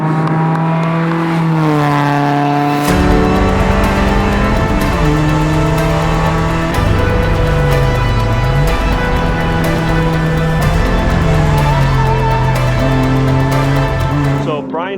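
A Porsche 944 off-road race car runs loud and close at Chuckwalla Raceway. The engine note rises and falls through gear changes, and a brief voice is heard under it.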